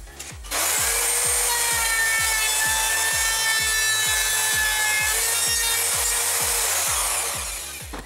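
Router carving instrument holes into wood for a flight simulator panel, a loud steady whine with a rhythmic grinding pulse underneath, starting up abruptly and running close without talk before easing off at the end.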